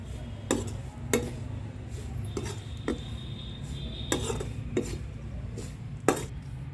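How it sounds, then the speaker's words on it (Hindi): Garlic being stirred into hot oil in a pan, a metal spoon scraping and clinking against the pan in about nine sharp, irregular knocks over a low sizzling background. "डालकर इसको चला देते हैं एक बार अच्छे से, ताकि तेल में ये बढ़िया से मिल जाए।"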